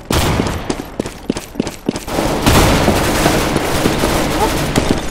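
Shotgun fire in the Counter-Strike: Global Offensive video game, a series of sharp loud blasts with a steady rhythm of shots, then a denser stretch of gunfire, close and loud, with game noise around them.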